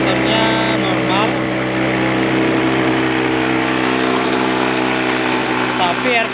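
A Honda Beat FI scooter engine idling too high, a steady continuous drone with someone talking over it, close by.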